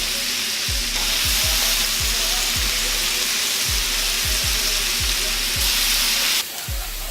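Bacon frying on a 36-inch Blackstone griddle, a steady loud sizzle and crackle punctuated by repeated soft scraping taps of a spatula against the flat-top, with no voices.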